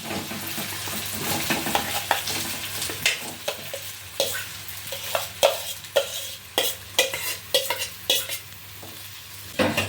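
Diced potatoes are stirred into hot oil in a pan for samosa filling, a soft continuous sizzle broken by a steady series of sharp scraping spoon strokes, close and fairly loud with no talking.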